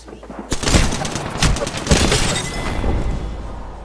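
Close-range sniper rifle fire in a video game, a burst of loud booming shots and rattling gunfire crowding together up close, then fading into a sustained rumble.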